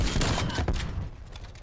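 Shotgun blasts from the Hoa secondary in Call of Duty Cold War, a loud close burst of gunfire at the start that fades into a ringing tail, with another quick shot just after, no voices.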